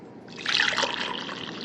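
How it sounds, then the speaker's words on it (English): Coffee pours from the glass carafe of a Mr Coffee 5-cup mini programmable coffeemaker into a mug, a short close trickling splash that swells and then steadies, with no talking. "Okay, I'm going to demonstrate pouring."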